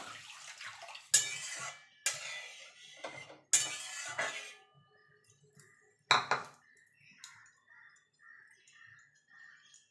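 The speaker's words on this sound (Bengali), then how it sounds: "দেখুন বন্ধুরা ডালটা ধুয়ে নিয়ে চলে এসেছে, এবার জল দিয়ে দেবো।" Water splashes into washed moong dal in short pours and bursts, several separate gushes over a few seconds, followed by quieter trickling and faint clinks in a kitchen.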